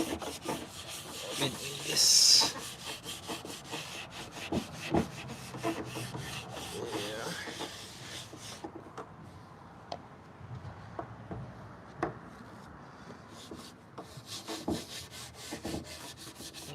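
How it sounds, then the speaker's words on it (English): Finish being rubbed by hand onto a wooden coffee table makes a close, steady rasping rub with repeated strokes, a louder swipe early on and a brief quieter pause midway. "Rub this finish."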